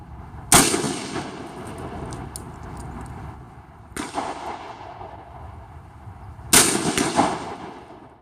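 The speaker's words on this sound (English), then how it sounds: "then we're going to shoot it with the highest charge that I made" An AR-15 rifle fires home defense loads into water jugs outdoors, three sharp loud shots several seconds apart, each trailing off in a long echoing decay.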